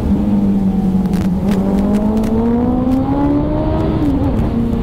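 A Suzuki Hayabusa motorcycle engine pulls with a loud, close tone that climbs steadily in pitch as it revs up, then dips briefly near the end.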